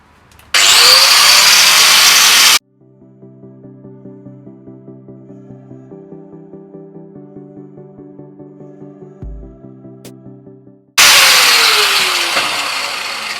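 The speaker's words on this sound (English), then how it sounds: "I don't really like using the angle grinder" An angle grinder cuts a bracket off a Porsche 928 fuel tank, giving two loud, harsh bursts of grinding separated by a quieter, steady humming stretch in the middle.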